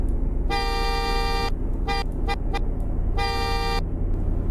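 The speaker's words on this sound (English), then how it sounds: "Here's what its horn sounds like." The horn of a 2019 Stuttgart Landschaft sounds loud and close: one long honk, then three short quick toots, then another long honk, over a low idling rumble.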